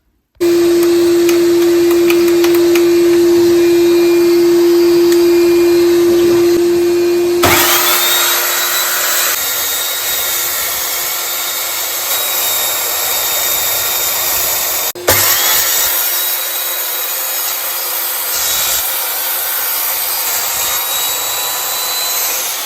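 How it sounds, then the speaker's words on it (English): A miter saw cuts the sides of a wooden sword blank, a loud close whining motor roar that runs steadily, changes pitch as the blade bites into the wood, and continues through several passes with no talk. "So we'll just use the old miter saw and we'll cut the sides."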